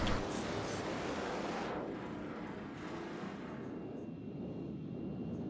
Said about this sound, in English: Afterburner!